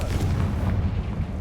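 A Confringo fire spell bursting in Hogwarts Legacy, heard as a steady, loud, low rumbling blast that fills the short moment without a clear sharp onset, with no voices over it.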